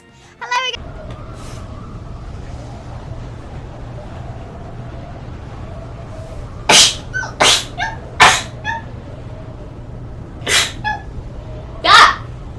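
A run of short, sharp sneezes, six or so, bunched in quick pairs over a steady low hum, close and distinct after a brief opening sound and a quiet stretch.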